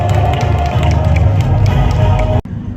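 Outdoor crowd at a labor union rally in Changwon cheers and claps loudly and continuously, a dense roar with sharp hand claps that cuts off abruptly near the end.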